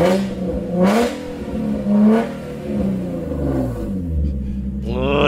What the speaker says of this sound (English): Man, that M4 sounds crazy.